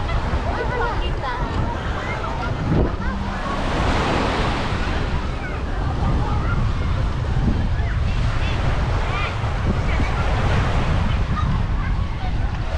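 Surf and wind at Pantai Reviola beach in Batam: steady loud wash of waves with gusty wind buffeting the microphone throughout, and a voice talking over it.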